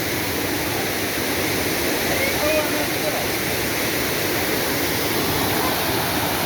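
Loud, steady rush of flowing water at a Harishankar temple in Odisha, a continuous broadband roar with no breaks, with a voice faintly present beneath it.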